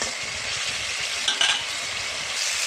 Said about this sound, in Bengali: এখানে দিয়ে দেবো দুটো টমেটো কুচি, এটা একসঙ্গে একটু কষিয়ে নেবো।